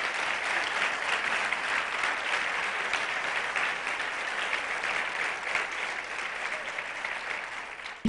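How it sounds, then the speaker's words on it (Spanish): A church congregation claps in a sustained, even burst of applause for about eight seconds, with a brief sound at the very end. "Dale un aplauso al Señor porque te está exhortando."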